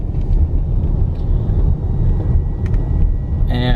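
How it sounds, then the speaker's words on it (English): City road traffic in Baton Rouge, heard from inside a moving vehicle as a loud, steady low rumble with a brief higher tone near the end. "I still can't get used to all this traffic in these big towns"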